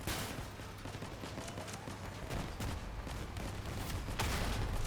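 Vehicle-mounted guns fire steadily in a Crossout battle, a dense, continuous rattle of gunfire with sharper bursts near the end, loud and without talk.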